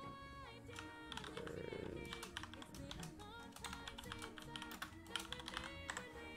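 Typing on a computer keyboard, a quick run of close, crisp key clicks in uneven bursts over quiet background music, with no voices.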